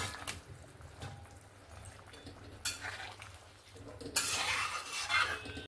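A pot of fish curry with kohlrabi and potato is stirred after the fish pieces go in. Soft scraping and light metallic clinks come up close, growing louder and busier toward the end.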